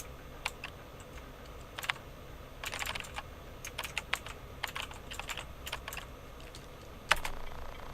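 Steady, close-up typing on a computer keyboard, with sharp key clicks in quick irregular runs and brief pauses between them.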